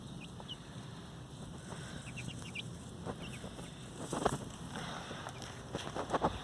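Backyard chickens in a coop and run, with soft clucks and short calls scattered through steady outdoor ambience and wind.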